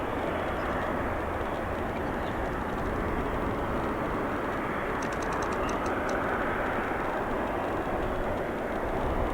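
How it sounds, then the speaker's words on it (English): A China Eastern Boeing 777-300 taxis at O'Hare International Airport, producing a loud, steady broadband engine roar that holds constant throughout, with no talk. "As we have our China Eastern 777-300 taxiing."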